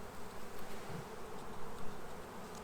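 Honey bees buzzing in a steady, dense hum around hives in an apiary, a continuous close swarm drone with slight swells in loudness and no voices.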